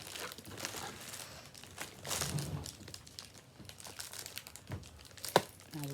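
An Amazon package being opened, with quiet crinkling of plastic and paper and a few brief tearing bursts, close up and fairly faint.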